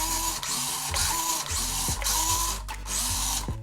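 The electric motor of a Panda Hobby Tetra24 RC crawler runs at wide open throttle in high, giving a continuous close, loud whine that steps up and down in pitch with a regular rhythm.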